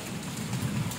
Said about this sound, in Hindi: ये देखो बाहर अभी तक बारिश जारी है, तेज आंधी के साथ